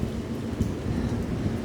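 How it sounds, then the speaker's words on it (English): Heavy rain pours steadily during a severe summer storm, a dense, close, continuous roar with low rumbling and no voices. "Oh my gosh, it's raining harder."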